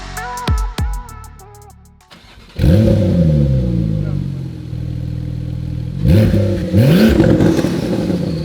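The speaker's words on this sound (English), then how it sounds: "We can hear this thing really start to roar." A Porsche GT2RS with a Fi Exhaust revs a few short times, then roars loud and close in long sweeping pulls, with a second rising burst near the end.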